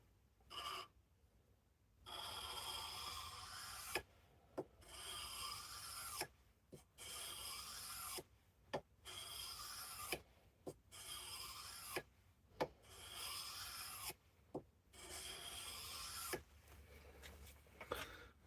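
A knife blade's bevel is honed on a sharpening stone in repeated rasping strokes, each lasting about a second or two, steady and close, with brief pauses between them and no talking.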